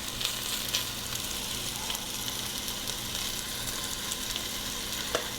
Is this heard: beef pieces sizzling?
yes